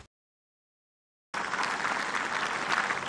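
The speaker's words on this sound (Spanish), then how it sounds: "Nuestro aplauso también para él." After a stretch of silence, broad applause breaks out at a ceremony and keeps going as a steady, fairly loud crowd clapping.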